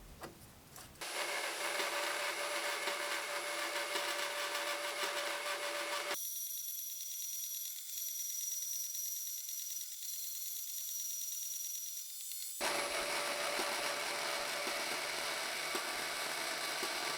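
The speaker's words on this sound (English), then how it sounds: "used my super professional looking bandsaw stand to cut a couple of inserts to fit into the lids" A bandsaw on a stand cuts inserts for lids, giving a loud, steady, close whine of the blade through the material that holds for about twelve seconds, with the tone shifting partway through, and no voices.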